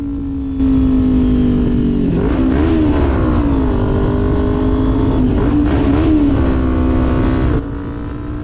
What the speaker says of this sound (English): Up ahead is something I can never resist, is doing a rev bomb through the underpass or tunnel.